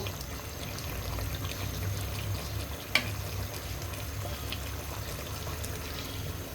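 Broth poured into a cooking pot of curry with liver, a steady liquid pour running the whole time with one sharp clink partway through.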